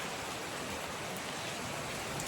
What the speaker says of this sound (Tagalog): Naliligo kami ni Asher sa ulan